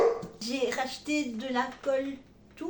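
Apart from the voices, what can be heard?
dog barking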